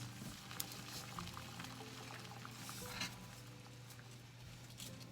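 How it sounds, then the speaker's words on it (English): A pot of water at a rolling boil for vegan pho noodles, a steady bubbling churn with faint clinks and splashes, close and continuous with no talking. "Water has come to a boil, so I'm going to go ahead and add the noodles."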